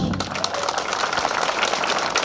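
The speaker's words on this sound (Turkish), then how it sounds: "alkış." A crowd at a Hıdırellez spring festival in Balıkesir bursts into applause, a dense and even wash of clapping with no voices over it.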